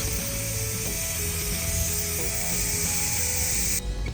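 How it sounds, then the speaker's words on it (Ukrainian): Gas hissing steadily out of the opened valve of a household gas cylinder, a continuous close broadband hiss that cuts off sharply near the end. "Хай стравлюється, потім коли газ повністю весь вийде, тоді почну замінювати."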